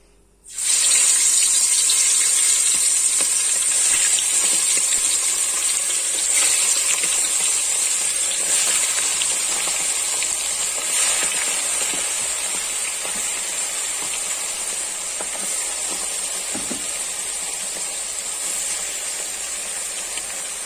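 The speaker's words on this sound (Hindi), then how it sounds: "तो अब हम इसके अंदर चिकन डालेंगे। ऑयल गर्म हो चुका है।" Chicken pieces dropped into hot oil while cooking a Persian chicken mossama dish, giving a loud, steady broadband sizzle that starts abruptly and holds for the whole stretch, easing slightly over time with no talking.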